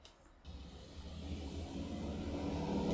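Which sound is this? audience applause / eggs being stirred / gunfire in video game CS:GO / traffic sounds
traffic sounds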